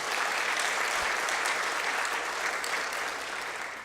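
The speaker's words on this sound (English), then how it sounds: "Let's give her a round of applause." A panel discussion audience breaks into sustained applause, a dense and even patter of many hands that stays strong before tapering off slightly in the final moments.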